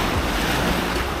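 Strong wind blowing at sea during a fishing trip, a loud steady roar of gusts buffeting the microphone over the wash of waves, with no other sounds standing out.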